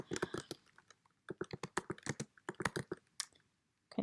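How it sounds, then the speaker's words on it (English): Close, quick tapping on a computer keyboard in irregular bursts, with a short pause before a final flurry of keystrokes. "I was saying it as I was typing it"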